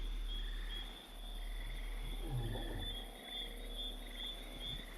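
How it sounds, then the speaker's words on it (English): Steady chirping of crickets fills a RuneScape 3 game zone, a continuous faint insect trill with a low hum underneath and no talking. "Oh, we got crickets here."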